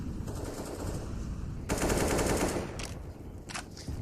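AK rifle fire in a professional CS:GO esports match, loud rapid bursts of automatic shots over game ambience, with a heavier stretch of firing midway and brief sharp shots after.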